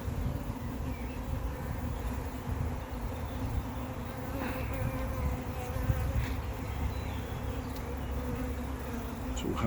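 Honeybees buzz around an open hive where a small nucleus colony with five brood frames is being inspected. The drone is steady and continuous, close and moderately quiet, with individual bees flying past now and then.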